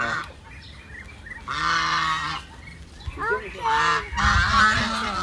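Birds at a fun farm's duck area give loud nasal honking calls in several bursts, close by, with children's and adults' voices in between.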